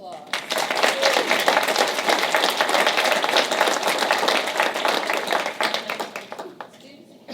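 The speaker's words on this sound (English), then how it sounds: "Let's give our Jefferson Jaguars staff and students one more round of applause." Staff and students of a school gathered at a board meeting give a warm round of applause, with many hands clapping loudly and continuously before the sound fades near the end, while voices mingle beneath the clapping.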